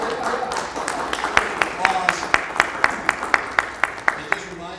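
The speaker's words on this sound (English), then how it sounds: "Great applause." Steady, evenly spaced claps ring out at a community sustainability conference, a few hands beating in a slow rhythm over a murmuring room for several seconds.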